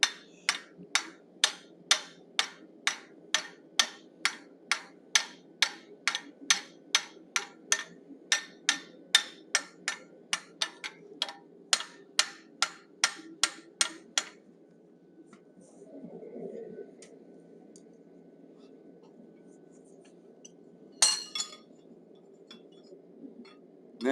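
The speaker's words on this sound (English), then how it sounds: "using my rounding hammer, I'm going to bring back any flare we might have gotten" Rounding hammer striking hot steel while forging a bison head on an anvil, a long run of sharp, evenly spaced metallic blows that stop midway, followed by quieter shuffling and one last clink.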